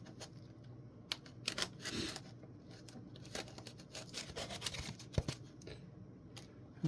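Razor blade slicing through layers of packing material, faint scratchy cuts and crinkles in irregular bursts, close up with no talking.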